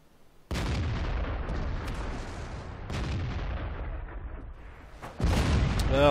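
An S51 self-propelled gun firing in World of Tanks, a heavy boom at the start followed by long rumbling decay, then a second loud blast near the end, with scattered smaller bangs between.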